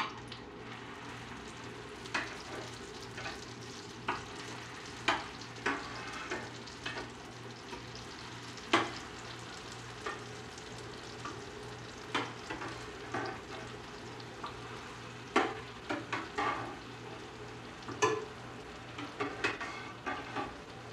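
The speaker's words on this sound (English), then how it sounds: "While those are sauteing, I'll put the rest of these in and let them cook up." Lazy pierogi sizzle and crackle steadily in a hot pan, with scattered sharper pops and spatters rising above the continuous frying hiss.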